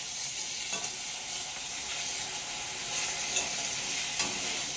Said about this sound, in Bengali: তো মাছটা ভাজা হয়ে যাক আগে